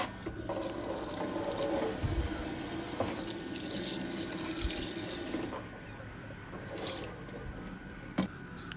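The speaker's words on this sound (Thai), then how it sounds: "พอครบทุกตัวก็ล้างทำความสะอาดนะครับ" Shrimp being rinsed under a running kitchen tap, with a steady close stream of water splashing into a sink, occasional handling clunks and drips, and no talking.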